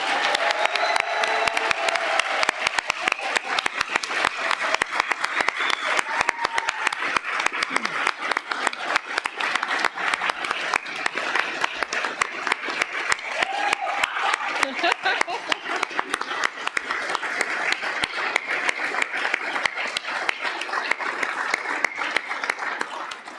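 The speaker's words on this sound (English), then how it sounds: "Please give all of these amazing young people and any who didn't ask to be recognized another round of applause." A church congregation applauds young people at a service, sustained dense clapping from a large indoor crowd lasting over twenty seconds, steady and moderately loud.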